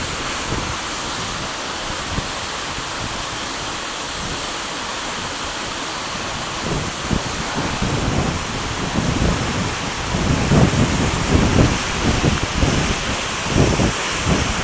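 Seljalandsfoss waterfall in Iceland roars continuously nearby, a dense, loud rush of falling water and spray with no break, swelling slightly toward the end.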